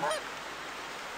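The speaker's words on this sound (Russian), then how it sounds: "О, еще гуси." Geese honk overhead in the hunting video game theHunter, a single faint honk at the start, then quiet ambience.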